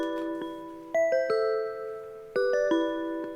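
Pitched bell tones with the low and high ends trimmed by a parametric EQ, struck in a melodic pattern of overlapping notes that ring and sustain, clear and alone with no voices.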